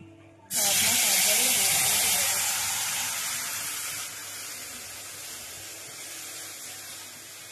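Papri chaat frying in hot oil in a kadai, a loud steady hiss that bursts in suddenly and then slowly eases, with faint voices underneath.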